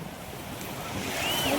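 Choppy sea waves wash steadily along the coast of General Nakar, Quezon, a broad surging rush with wind buffeting the microphone, slowly building louder toward the end.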